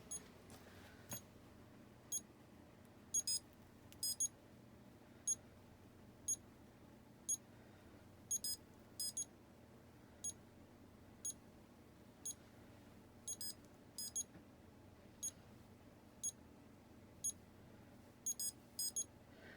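A dental curing light gives short paired electronic beeps at steady intervals over about twenty seconds while hardening blackout resin on bleaching trays. The beeps sit close and clear above a low hum, and no one speaks.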